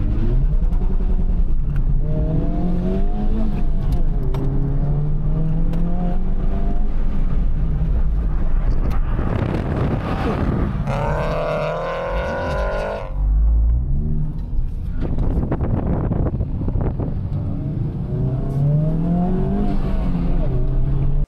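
A Honda Civic Type R FL5 on an autocross run: the engine revs and rises through the gears, loud and close from inside, with tires squealing in the middle and no talk.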